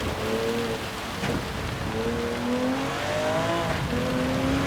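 Steady rain hisses and patters throughout a Gran Turismo 7 race in a Porsche 917K, under the loud, rising and falling engine whine of the car as it shifts through gears.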